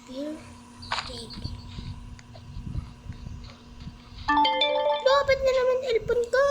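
A cellphone ringtone sounds during a 99 Nights in the Forest gameplay session, a melodic electronic tune rising loud in the last couple of seconds over game noise, after a stretch of steady tones and background chatter.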